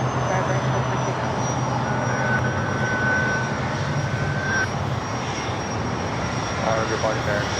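Aircraft engines roar at LAX airport, a broad sustained drone with a thin high whine riding over it, steady and fairly loud as planes take off and land in the distance.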